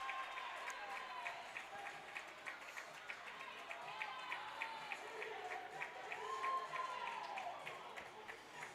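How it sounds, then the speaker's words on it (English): Ice hockey crowd at a boys' Stars of Tomorrow game roaring after a goalie's save on a backhand breakaway shot, a sustained wash of cheering and scattered clapping filling the arena, with commentary talk running over it. "the crowd went absolutely bonkers"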